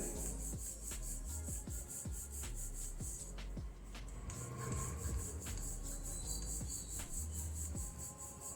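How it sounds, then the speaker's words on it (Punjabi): Paratha dough is rolled out with a wooden rolling pin, giving rhythmic rubbing and knocking strokes about every half second, with a steady high chirping in the background. "ਵੇਲਣ ਦੇ ਨਾਲ ਆਪਾਂ ਰੋਟੀ ਨੂੰ ਵੇਲ ਲਵਾਂਗੇ ਹੁਣ"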